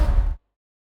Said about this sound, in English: The impact is made up with a straight hit on a metal barrel